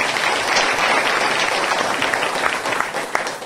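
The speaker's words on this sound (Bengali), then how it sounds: "জোরদার তালি বাজিয়ে শুরু করেছে।" Loud, dense clapping from an audience fills the whole stretch, steady and continuous with a few sharper claps near the end, at a church sermon.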